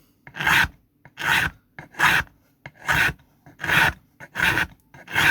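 A hand file rasps on a guitar part at a luthier's repair bench in seven steady, evenly spaced strokes, each a loud, gritty scrape close to the listener, with short quiet gaps between strokes.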